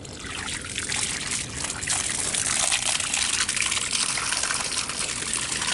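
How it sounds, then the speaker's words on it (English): Water pours and trickles steadily into a garden bird fountain, a continuous close splashing gush that holds throughout with no talking. "So let's go fill the water."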